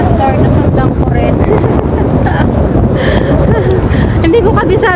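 Strong seaside wind buffeting the microphone, a loud continuous rumbling roar with a person talking over it throughout.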